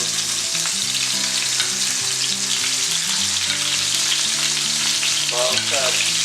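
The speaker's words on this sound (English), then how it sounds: "Okay, my oil is already very warm. So I'm gonna add my scallops." Scallops sear in very hot oil in a pan, a loud, steady, dense sizzle and crackle running unbroken throughout with no voices.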